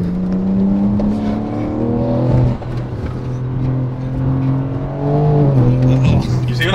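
Inside a BMW M4 G82 moving fast downhill, a loud, steady engine drone with shifting tones runs throughout, dipping briefly midway, while people talk over it.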